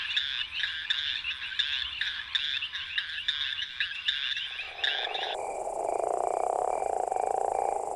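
Leopard toad calling with throat pouch inflated, a pulsing snore-like croak repeated in a steady rhythm, loud and close, then shifting into a continuous buzzing trill alongside other frogs.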